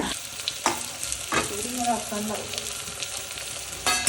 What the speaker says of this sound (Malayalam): കുക്കറിലേക്ക് കുറച്ച് വെളിച്ചെണ്ണ ഒഴിച്ച് കൊടുത്തതിന് ശേഷം അതിലേക്ക് നമുക്ക് വലിയ ഉള്ളി ചേർത്ത് കൊടുക്കാം